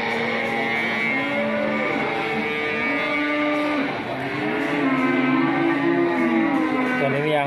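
A pregnant cow, eight months along and close to calving, gives sustained low moos that waver and overlap across the whole stretch, steady and fairly loud against a busy background hum.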